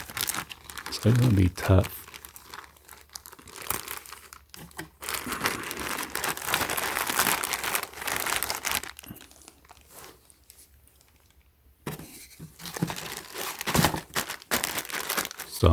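Packaging for a resold Supreme item being folded back into its original shape for shipping: loud, close crinkling and crunching rustles in repeated bursts, with someone talking over them throughout.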